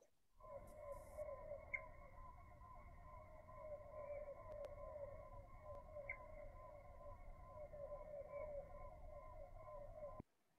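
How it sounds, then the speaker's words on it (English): Bees buzz in a slow-motion recording, which turns the sound into a sustained, eerie low tonal drone with layered steady pitches. It holds evenly for about ten seconds and then stops abruptly. "That sound is the sound of the bees buzzing."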